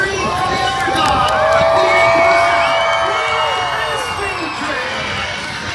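A crowd at a monster truck show in Ringgold, Georgia screams and cheers loudly and continuously, high shrieks and whoops swelling in the middle and easing slightly toward the end.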